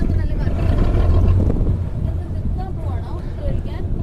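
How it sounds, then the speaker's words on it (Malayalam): Wind buffets a microphone aboard a houseboat on the backwaters of Alappuzha, a dense continuous low rumble and rush that stays loud and close throughout, with faint voices under it. "കാറ്റ് പുറകിൽ നിന്നാണ് വീശുന്നത്"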